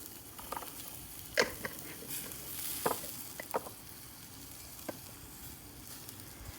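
Bacon grease sizzles and crackles in a skillet on an old smokey grill, a steady close frying hiss with scattered sharp pops and a few louder spatters.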